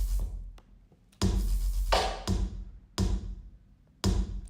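A drum loop with evenly matched kick hits landing at a steady pace, each followed by a brief wash of cymbal and snare, fairly quiet.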